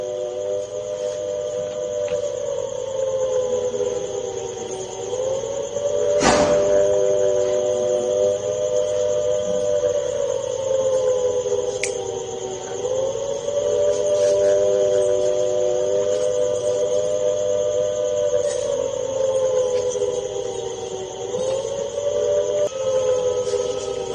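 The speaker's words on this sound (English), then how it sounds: "This time, sirens are ringing in Punjab's Firozpur as well." Air raid sirens sounding in Firozpur, Punjab, their steady wailing tones slowly rising and falling in pitch for the whole stretch, loud and continuous with no voices.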